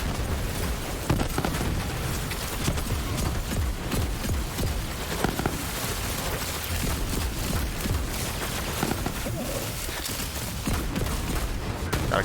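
Gunfire from the video game Borderlands 3, dense rapid bursts and booms in a continuous, loud barrage with no pauses, layered with explosions throughout.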